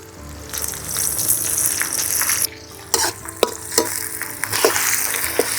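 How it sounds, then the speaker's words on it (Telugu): Onions frying in a pan for a Telangana-style country chicken curry (naatu kodi kura): a steady hiss and sizzle, with stirring scrapes and clatters breaking in every second or so. "ఉల్లిగడ్డలు జర్ర పండు వేగాలి."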